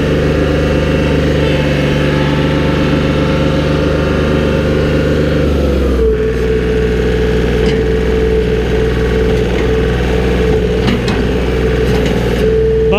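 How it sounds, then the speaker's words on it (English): A John Deere 4105 compact utility tractor engine runs at full throttle in low range, a loud, steady drone that shifts to a different pitch partway through and then holds. "I'll full throttle it, show you how fast it goes in low."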